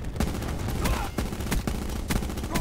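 A strafe gunfire attack in the video game Black Ops 4 rattles out as loud, rapid, overlapping bursts of shots, a constant barrage with sharp repeated cracks throughout.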